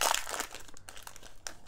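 A foil pack of Upper Deck Skybox Metal Universe hockey trading cards being torn open, with close crinkling and crumpling bursts, louder at the start and then in short crackles, with no talking.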